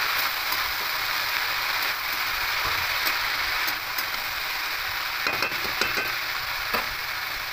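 Chopped noteshak greens frying in a pan, a dense steady sizzle with scattered light spatula scrapes and ticks as the leaves are tossed and mixed, fairly close and without speech.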